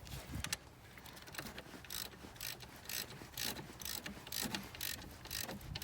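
Rapid ratchet clicks in repeated bursts while an alternator bolt is tightened on a 2003 C5 Corvette, close and fairly steady across the whole stretch, with no talking.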